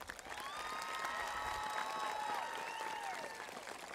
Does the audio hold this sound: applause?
yes